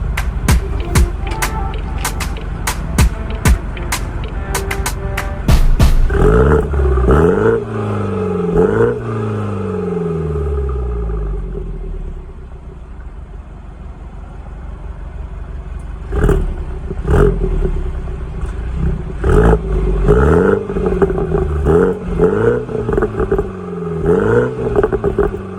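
A BMW 340 exhaust with the secondary catalytic converter removed, heard up close. Sharp clattering bursts are followed by deep revs that rise and fall, then a steady idle with further short rev blips.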